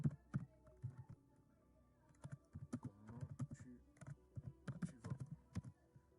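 Someone types a short message on a computer keyboard: quiet, close key taps in uneven bursts with brief pauses between words, and no voices.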